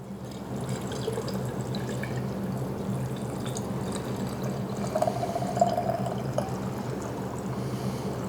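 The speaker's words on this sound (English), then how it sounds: "we're going to bring the water level all the way up to the shoulder of the jar" Water pouring steadily into a glass fermentation jar, a continuous close trickling and splashing that brightens slightly as the level rises toward the shoulder.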